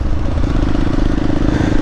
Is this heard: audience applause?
no